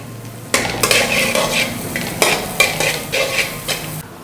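Chicken and carrot pieces are tossed and stirred in a wok for restaurant-style chicken fried rice, with a series of loud metal ladle scrapes and clanks over a light sizzle, close by, no talking.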